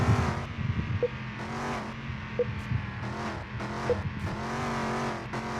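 A video game car drives on a test track, its engine humming with a rising and falling pitch through gear changes, broken by short clicks and light tire noise.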